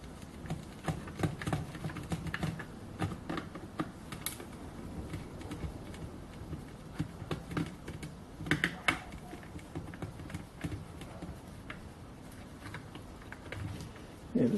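Small screws being backed out of the plastic housing of an old Bosch cordless electric drill, at least 30 years old, giving close, irregular clicks and taps with faint rattles throughout.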